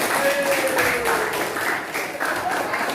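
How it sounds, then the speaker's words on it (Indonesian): Classroom applause from students for a classmate who earned the top test score of 100; brisk, steady clapping close by throughout, with faint voices mixed in. "Tepuk tangan untuk dia."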